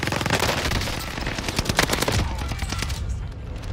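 Rapid automatic gunfire in Call of Duty Warzone on Rebirth Island, loud dense bursts of shots rattling close for a few seconds before thinning out, with a voice faintly underneath.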